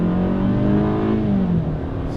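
A 2018 Hyundai Sonata SEL pulls away in first gear in manual auto stick mode, its engine note rising smoothly as it accelerates, then easing off near the end, heard from inside the cabin.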